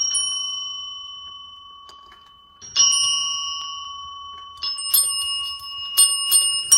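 A small metal bell rung by a cat for a treat dings clearly several times at home, bright single strikes ringing out and decaying in an otherwise quiet room.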